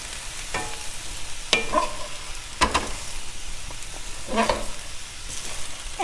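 Cabbage and soaked dal stirred in a pan over a steady low sizzle, with several distinct scraping strokes of the spoon at irregular intervals and no voices.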